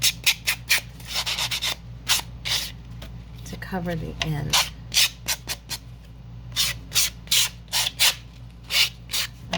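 Repeated rhythmic rasping strokes as excess is trimmed and scraped from a tag made of a playing card, harsh and close, with a voice speaking briefly partway through.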